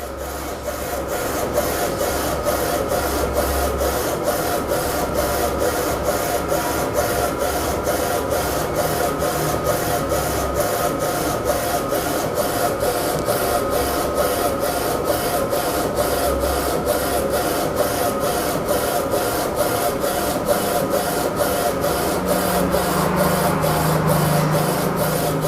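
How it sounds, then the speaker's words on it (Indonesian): A Zericho XP600 double-head DTF printer running steadily, with a loud continuous mechanical whir and a fast, regular ticking of the print carriage throughout, close and alone. "Kalau sudah pas, kita bisa langsung cetak."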